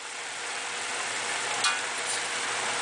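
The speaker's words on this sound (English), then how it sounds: "So once all the noodles are in, you mix it up." Noodles being tossed and stirred with vegetables in a hot pan, giving a steady broad sizzle with scraping motion throughout, a brief louder clack near the middle, no talking.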